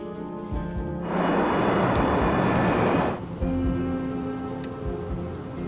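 A UPS heavy cargo jet on descent toward the runway gives a roaring engine rush that swells for about two seconds and then falls back to a lower steady hum, with a regular high ticking throughout.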